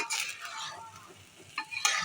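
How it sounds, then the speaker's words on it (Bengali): Broken rice grits being stirred in hot oil in a pan, soft sizzling with scraping strokes of a spoon and a couple of louder clatters near the end, close by and without talk. "তেলের মধ্যে ভেজে নেব।"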